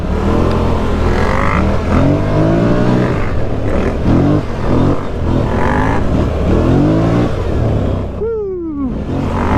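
A Can-Am Renegade or Scrambler 1000 ATV in four-wheel drive revs hard under power on a trail, its engine rising and falling in repeated surges, loud and close, ending with a falling whine.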